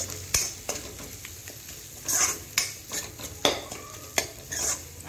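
Spices such as turmeric and cumin powder are stirred into potatoes in a frying pan, with intermittent scraping strokes and clinks over a soft, continuous sizzle.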